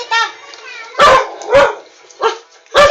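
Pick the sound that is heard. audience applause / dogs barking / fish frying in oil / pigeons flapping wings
dogs barking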